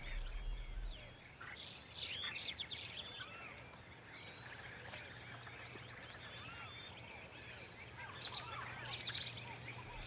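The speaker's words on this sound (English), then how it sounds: "Brilliant macaws and parrots fill the forest with sound and color" Macaws and parrots calling in a rainforest, faint scattered squawks and chirps over a quiet low hum, with a denser burst of calls toward the end.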